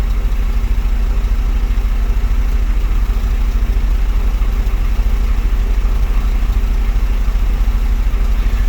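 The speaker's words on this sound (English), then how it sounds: "it's idling a lot smoother than before" A Saturn S-Series car with a rear-mounted turbo idles with a steady, even low rumble and a smooth rhythmic pulse, close and constant throughout.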